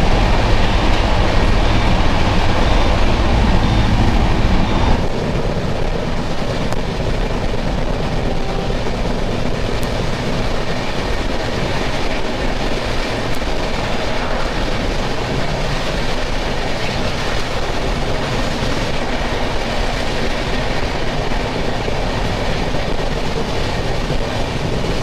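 A Rupasi Bangla Express (12883) train races along at high speed, steady loud rumble and rattle of rail cars with faint clickety-clack throughout, a heavier low thump in the first five seconds, no talk.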